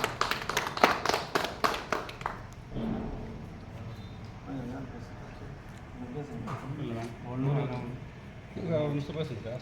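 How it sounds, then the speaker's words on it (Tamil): An audience at an Idumban kavadi temple event in Tiruvannamalai, Tamil Nadu, claps in a quick rhythmic burst of sharp hand claps that fades into talking. "கை தட்டுங்க"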